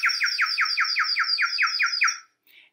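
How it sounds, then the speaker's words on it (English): A single bird chirps in a rapid run of about ten bright, evenly spaced notes, close and clear, then stops. A faint short chirp follows after a brief silence. "And the birds were chirping."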